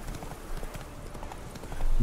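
Horse hooves clip-clop steadily on the ground in The Witcher 3, close and rhythmic. A low rumble swells under the last moments.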